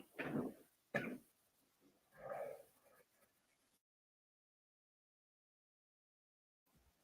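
Two sharp close coughs in quick succession, followed by a short throat-clearing grunt, then near silence.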